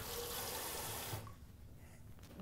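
Water runs from a tap into a bowl in a steady hiss that cuts off midway, leaving quiet room noise.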